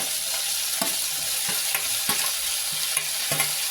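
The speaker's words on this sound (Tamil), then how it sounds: "இப்போ தக்காளியும் வெங்காயமும் கொஞ்சம் லேசாக வணங்கினா போதும்" Tomato, onion and vegetables sautéing in a pan for sambar, a soft steady sizzle broken by repeated light clicks of a spoon stirring at an uneven rhythm, close and alone.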